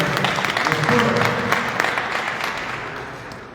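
Audience applause fills a hall at a Republican swearing-in ceremony for a New York State Senate member from Brooklyn's 46th district. The clapping is a dense, steady crowd roar that slowly fades toward the end.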